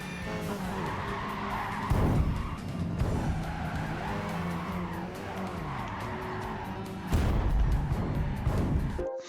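A car in the Gran Turismo 5 video game sliding on its handbrake, with an engine drone, rising revs and repeated tire skids and squeals, louder bursts near the start and end.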